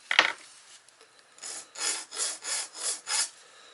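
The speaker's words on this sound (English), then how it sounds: "I deburred it, and I filed it down so there's no sharp edges." A hand file rasps across the cut end of a steel brake line tube for a Jeep Cherokee XJ, making a sharp scrape followed by five steady, rhythmic strokes close by and fairly quiet.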